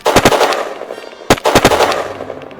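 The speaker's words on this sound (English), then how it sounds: "The unrelenting French cannon fire scattered and butchered the supporting mortars." Cannon fire in a Napoleonic-era video game battle between French and British forces: loud, sharp booming blasts, a quick cluster at the start and another volley midway, with rumbling echoes in between.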